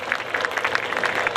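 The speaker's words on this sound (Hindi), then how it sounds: "तालियों की गड़गड़ाहट थोड़ी कम पड़ रही है" An audience applauding after an energetic dance to a Marathi song at an ex-servicemen association function, a steady dense wash of clapping from a crowd throughout.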